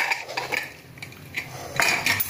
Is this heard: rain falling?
no